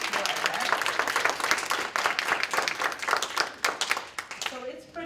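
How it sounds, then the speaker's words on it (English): Audience applause for muralists at a public art session, a dense wash of many hands clapping steadily and fairly close, tapering off near the end as a voice begins to speak. "So we can give a round of applause for our muralists who are here."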